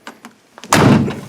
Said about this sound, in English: door latches and shuts completely, and the door panel is in place.